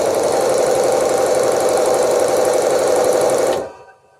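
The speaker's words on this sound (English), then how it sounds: "the actual drill is more quiet than the actual sander" A drill and a sander run together on a small workbench, a loud, steady buzzing whir that stops abruptly near the end.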